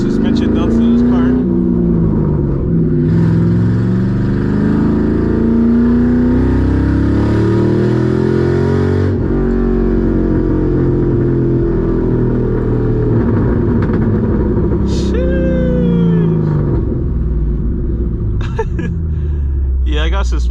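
Loud, close exhaust of a straight piped 2007 Mustang GT, revving up and down through downshifts, with crackling pops breaking out near the end as a voice talks over the engine.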